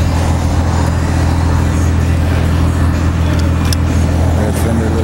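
A Harley-Davidson Dyna Street Bob FXDB motorcycle engine runs steadily at idle, a continuous low throbbing rumble held close and loud throughout.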